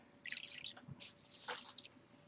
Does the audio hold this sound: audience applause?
no